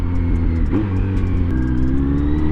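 A 2023 Kawasaki Z900 sport bike engine hums steadily with a brief throttle blip rising and falling, a loud, close mechanical drone with no talk.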